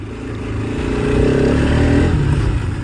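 A Bajaj Pulsar RS200 BS6 motorcycle exhaust revs, a short, close, throaty engine note rising and swelling over a few seconds, loud and alone without speech.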